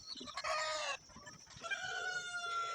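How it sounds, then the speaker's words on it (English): Chickens cluck and a rooster crows up close on a poultry farm, a loud harmonic crow rising over steady scattered clucking, with a second crow near the end. "Chicken."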